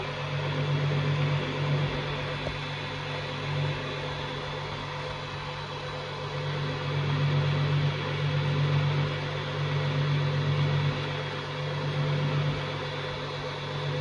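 An electric mixer whirs steadily while it beats lemon meringue pie filling, making a continuous motor drone with slight rises and dips in pitch over about fourteen seconds, and no one speaks.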